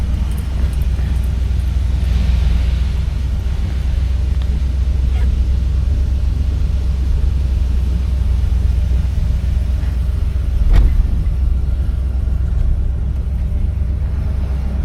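Steady low engine rumble from a 1973 Buick Electra 225 as it drives, a constant drone with road noise and one brief sharp knock near the end. No talking.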